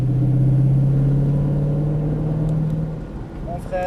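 A Ford Mustang Shelby GT500 on a track gives a loud, close, deep engine rumble that climbs slowly in pitch, then eases off near the end as a voice cuts in briefly.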